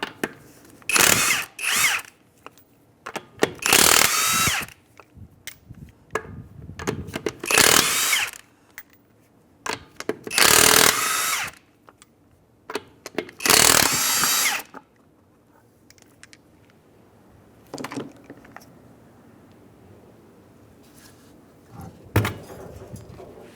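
A power tool spins off the 21 mm front wheel lug nuts on a 2007 Mazda CX-9, heard as several loud, separate whirring bursts with quiet gaps and light clinks between them.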